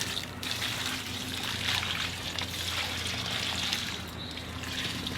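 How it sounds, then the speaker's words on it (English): Water trickles and pours steadily onto soil around a newly planted shrub, a soft continuous splashing stream heard close up with no talking. "Use the water to fill in all the air pockets."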